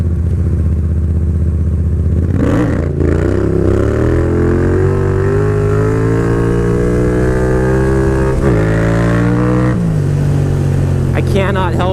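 A Yamaha FZ07 motorcycle engine revs loud and close, climbing in pitch with a few quick blips and throttle changes, holding a steady strong drone throughout.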